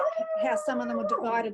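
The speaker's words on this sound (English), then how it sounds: "Sorry, that's a dog." A dog howls in the background with long, wavering, drawn-out tones while a person talks over it in a council meeting held remotely.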